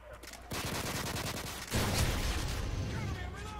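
Five-seven pistol firing in a video game: a dense stream of rapid gunshots, loud and continuous, with a heavier burst partway through, the shots blurring into steady fire.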